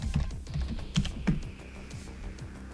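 Close, quick typing on a computer keyboard: a brisk run of crisp keystrokes that gradually slows and softens toward the end, with no voices.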